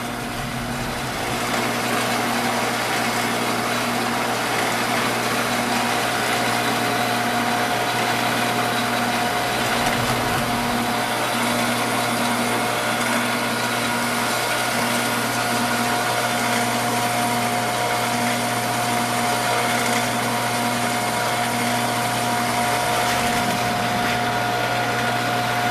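A lathe spins an aluminum faceplate steadily, giving an even mechanical whir with a thin high whine that holds unchanged throughout, with no voices.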